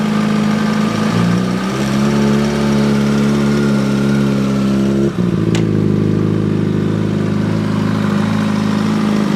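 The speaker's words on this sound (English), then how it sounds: "You see, the bike is moving. Slowly release the clutch and then at the same time give it some little gas." Kawasaki Ninja motorcycle engine pulling away slowly, a loud steady near drone that shifts in pitch partway through before settling again.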